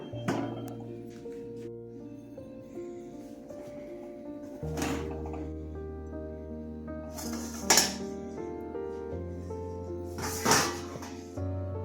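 A metal lid set onto a cooking pot holding a Bengali pea dhoka curry, producing a few separate clanks and clinks spaced several seconds apart, with soft handling noises and a low steady hum between them.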